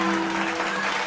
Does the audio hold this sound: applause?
yes